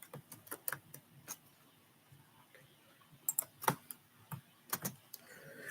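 Quiet typing on a computer keyboard, with irregular clusters of light key clicks and taps that come in short bursts with pauses between them, close and fairly faint.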